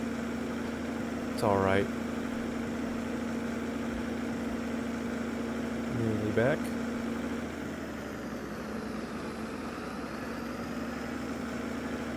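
Tractor engine in Farming Simulator 22 running at a steady, low idle throughout, with a person talking briefly over the hum.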